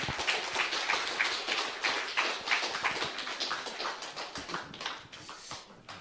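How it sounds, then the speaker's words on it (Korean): A seated audience applauds to welcome a speaker, with steady dense clapping that fills the room and stays loud and continuous before easing slightly toward the end. "오늘 웬일로 이렇게 환영의 박수를 다른 때랑 다르게"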